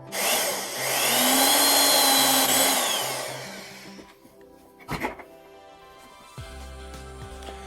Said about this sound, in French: pour le perçage, j'utilise un autre forêt qui fait 50 cm de long